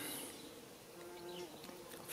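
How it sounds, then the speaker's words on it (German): Bumblebees buzz steadily and faintly while pollinating a bush bean bed in a garden, a continuous close drone with a few passing pitch changes. "Die Hummeln sind ordentlich bei der Arbeit beim Bestäuben des Buschbohnenbeetes."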